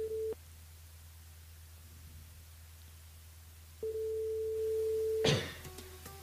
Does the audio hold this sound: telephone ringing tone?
yes